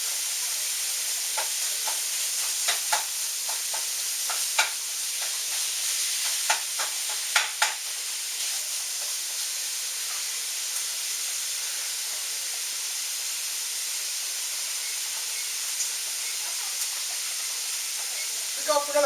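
Pieces for a lazy no-boil lasagna sauté in a pan, giving a steady broadband sizzle throughout with scattered crackles and scraping stir strokes, moderately loud and close.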